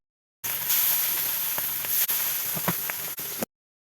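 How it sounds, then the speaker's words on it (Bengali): Fish frying in hot mustard-oil-style cooking in a kadai, a steady dense sizzle and hiss close up with a few sharp pops and crackles, running alone without voices. "এবার একখান গরম কড়াই দিয়া দিমু তেল, তেলের মধ্যে ছাইরা মাছ দেখমু আমি খেল"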